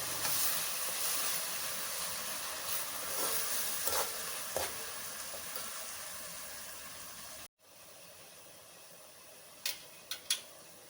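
Spice paste of coriander, cumin, garlic, mustard seeds, fenugreek and onion fries in a pan with a loud steady sizzle and hiss, a few stirring clinks, then a sudden cut to quieter frying with sharp clicks.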